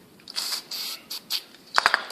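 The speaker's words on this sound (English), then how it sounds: "you spray this with carb cleaner, you soak it" Carb cleaner sprayed onto a Toro CCR 1000 carburetor during cleaning, heard as several short, close hissing bursts, followed by a quick run of small clicks and taps.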